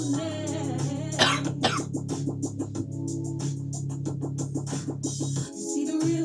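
A person coughs once partway through, a short rough burst over steady background music playing during a lip-sync recording.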